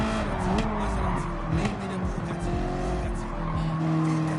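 A racing car engine in the video game Gran Turismo 7 screams at high revs on the rev limiter with tire squeal, loud and close, the pitch bouncing against the limit.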